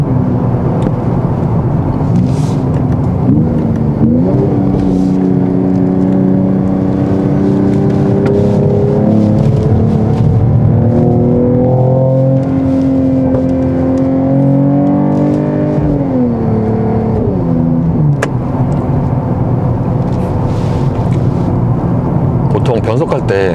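A Mercedes-AMG GT 43 4Matic+ drives on a circuit, its engine and exhaust droning loudly from inside the cabin with rising and falling revs through gear changes, while someone talks over it.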